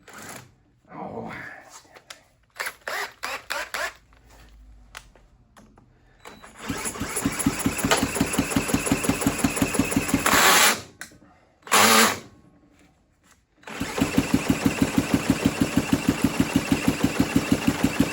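A small Honda CT70 engine on a stand sputters and catches, runs with a rapid steady chugging, then cuts out briefly and fires back up into a loud, even putter.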